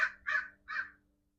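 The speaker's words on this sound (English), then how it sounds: "Birds, these crows." Crows caw three times in a slow, evenly spaced series, each call harsh and moderately loud against a quiet background, with no voices.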